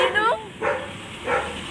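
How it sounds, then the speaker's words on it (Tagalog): A Doberman barks three times in short, sharp bursts, close by and evenly spaced. "Doberman."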